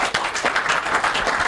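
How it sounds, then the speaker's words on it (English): A studio audience at a family call-in program claps briefly, with dense, lively applause for about a second and a half. "You can clap for her."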